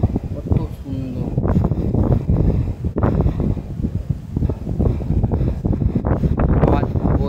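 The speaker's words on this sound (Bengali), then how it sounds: "একটা স্পিডে হাওয়া বয়ে চলেছে, কাল থেকেই এই স্পিডে হাওয়া বয়ে চলেছে।" Strong wind at a seaside resort balcony buffets the microphone in loud, uneven gusts. The rumbling bursts continue through the clip, with the sea faintly beneath.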